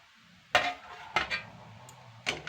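Poha being stirred and tossed in a pan, with a few distinct scraping clinks of utensil on metal over a faint background sizzle, close by.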